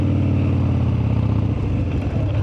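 A car engine downshifting in traffic, heard as a steady, loud low rumble with a slight rise in revs, close by and without talk.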